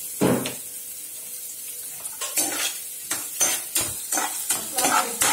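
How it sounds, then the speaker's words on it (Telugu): Spoon stirring brinjal tomato curry in a metal pan, repeated scraping strokes with a light sizzle, close and fairly loud, no talk. "ఇప్పుడు కలుపుకోవాలండి."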